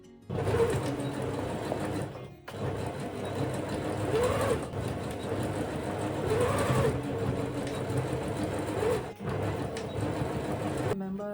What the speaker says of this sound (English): I'm just going to do like a stitch to make sure everything's in the right place before I start the lining.